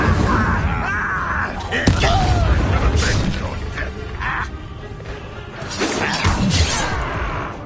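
Spell blasts and impacts in Hogwarts Legacy, a fast run of crashing bursts, booms and whooshing magical effects layered over combat shouts, loud and dense throughout with a sharp hit near the two-second mark.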